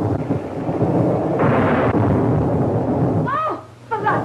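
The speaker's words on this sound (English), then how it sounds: "It's a storm." Thunder in a storm rolls as a loud, sustained rumble that swells and fades, with a brief higher cry breaking through near the end.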